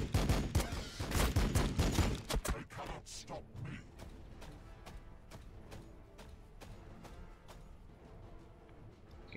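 Gunfire in the Warhammer 40k Battlesector strategy game: heavy overlapping volleys for the first few seconds, then sharper single shots spaced out at a steady rhythm, fading toward the end.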